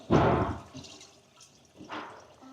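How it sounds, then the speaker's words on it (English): Water dripping in a toilet tank after a flush because the supply valve is still slightly open, two distinct close drips or splashes about two seconds apart in a quiet space. "But it is dripping, so it means that it's still open a little bit."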